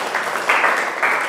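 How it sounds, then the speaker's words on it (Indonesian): Brief applause from a classroom group of teachers in training, a steady wash of clapping that swells in waves, with no voices over it. "Sok, tepuk tanganlah Kang Sadayana"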